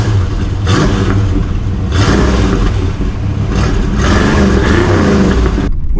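Exhaust of a 1985 Ford Mustang GT V8 revving in several loud, close bursts, the engine rising and dropping back toward a rumbling idle between pulls before cutting off abruptly.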